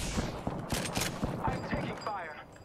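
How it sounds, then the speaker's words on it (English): Gunfire from the video game Apex Legends: a steady run of sharp shots, roughly four per second, fairly close, with a burst of hissy noise partway through and a brief whooshing sweep near the end. "I'm taking fire"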